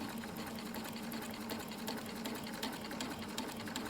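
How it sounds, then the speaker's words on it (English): A sewing machine runs steadily, stitching a quarter-inch seam through quilt fabric, with a continuous close whirring hum and rapid needle chatter and no pauses. "So now I'm gonna sew this 1/4 inch seam"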